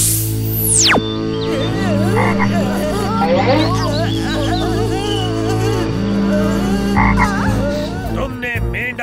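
Cartoon frogs croaking in a loud, busy chorus of warbling, bubbly calls, opening with a sweeping whoosh over a low steady hum.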